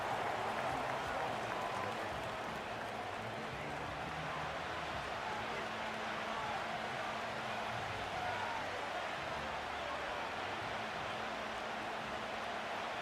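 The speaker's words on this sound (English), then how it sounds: "The crowd making their presence felt." Broad, steady roar of a stadium crowd at an American football game, continuous and fairly loud throughout with no clear breaks, a dense wash of many voices and cheering blended together.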